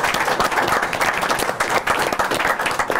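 A studio audience claps for guests on a Turkish talk show, dense and fairly loud applause with close individual claps, sustained without a break and with no talk over it.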